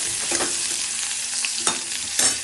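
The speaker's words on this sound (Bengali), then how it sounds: "এইভাবে তো ভেজে নিচ্ছি বেগুনগুলোকে" Eggplant (brinjal) pieces fry in a pan with a continuous close sizzle, punctuated by a few scraping stirs, with no voices.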